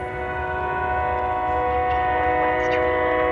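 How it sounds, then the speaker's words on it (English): Northwest commuter train to Chicago arriving at a station while sounding its horn, a loud sustained chord-like blast held steadily throughout, close by, over a low rumble of the train. "Northwest train number 664 to Chicago OTC is now arriving."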